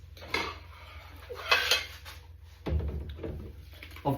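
Dishes and cutlery being washed up clatter and clink repeatedly, plates knocking together and metal utensils rattling at close range.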